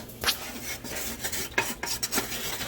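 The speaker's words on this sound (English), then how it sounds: "Keep stirring, James." Flour toasting in a pan for tamales is stirred steadily, giving a continuous close scraping and rubbing with periodic sharper strokes against the pan, no voices over it.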